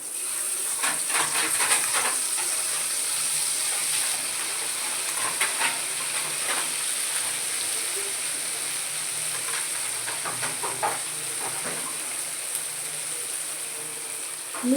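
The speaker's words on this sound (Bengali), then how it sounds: "এখন দিয়ে দিচ্ছি সাদা সর্ষা, কালো সর্ষা আর পোস্ত পেস্ট।" A paste of white and black mustard and poppy seed hits a hot cooking pan, giving a loud, steady hiss and sizzle that runs throughout with scattered crackles and faint clinks.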